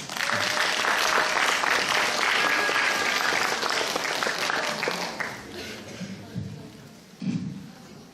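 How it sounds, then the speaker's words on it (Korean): Audience applause at a 2018 disability rights presentation contest greets a high school student team. Dense, loud clapping runs steadily for about five seconds, then thins and fades out, with a few voices briefly heard near the end. "박수로 모시겠습니다."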